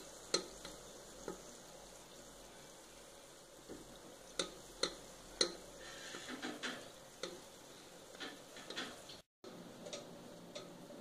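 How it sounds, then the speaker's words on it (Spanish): Sausage banderilla skewers fry in hot oil with a steady, quiet sizzle, broken by sharp pops and light ticks scattered throughout, with a short dropout near the end. "Como ven, debe estar bien caliente nuestro aceite y girarlo hasta que empiece a dorar."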